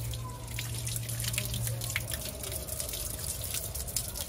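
Water streams steadily from a public drinking fountain in Dubrovnik, Croatia, a continuous close splashing and dripping heard alone, with no talk.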